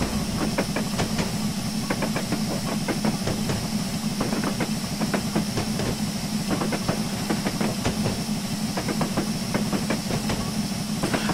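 An LMS Class 8F steam locomotive running in Train Simulator 2016, a constant loud hiss of steam over a low rumble with quick, regular exhaust chuffs and rail clicks, steady throughout and without voices.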